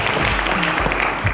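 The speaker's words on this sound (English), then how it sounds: "a round of applause to our future inventor" An audience at a televised quiz show finals claps steadily in a brief, dense burst of applause, loud and close with no talk over it.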